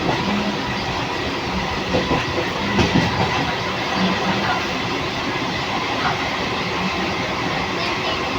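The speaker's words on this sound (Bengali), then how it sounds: "এই ট্রেনটা নতুন দিয়েছে, নামখানা থেকে 5:42-এ ছাড়ে, একদম ফাঁকা।" A local passenger train from Namkhana running, a steady loud rumble of wheels on track with faint rhythmic clatter throughout, heard from inside the carriage.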